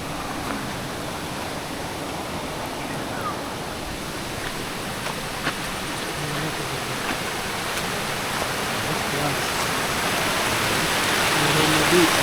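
A small river flowing near a newly rebuilt well gives a broad, steady wash of moving water, close and even, swelling slightly toward the end.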